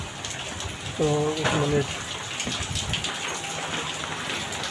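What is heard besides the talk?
heavy rain falling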